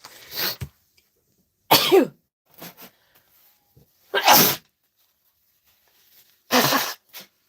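Four loud sneezes burst out alone with silent pauses between them, plus a couple of short softer coughing sounds.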